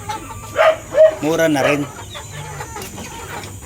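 Chickens cluck nearby in a few short bursts while a person speaks briefly over them.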